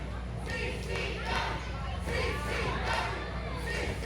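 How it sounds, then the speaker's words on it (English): Crowd at an indie pro wrestling show in Kissimmee cheering and shouting in appreciation after a tag team match, a continuous roar of voices with scattered yells throughout. "Crowd showing appreciation for both teams"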